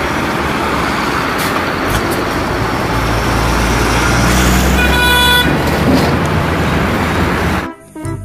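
A toy tanker truck horn toots in a short tonal burst partway through, set against a steady noisy background that cuts out abruptly near the end.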